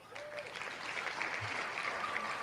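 Applause from a small group in a casual online Sunday night chat, a steady patter of clapping that holds at an even level for a couple of seconds with no talk over it.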